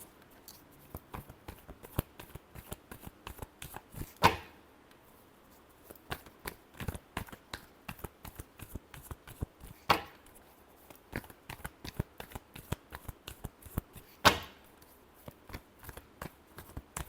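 A deck of tarot cards is shuffled by hand, giving rapid soft riffling taps and flicks at a steady rhythm, close and quiet, with a few sharper slaps now and then and no talk.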